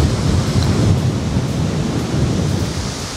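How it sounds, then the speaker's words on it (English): Strong wind gusts over an open golf course at a PGA Tour Canada event at TPC Toronto, a loud, steady low rumble of buffeting air with no talk. "That is a lot of wind."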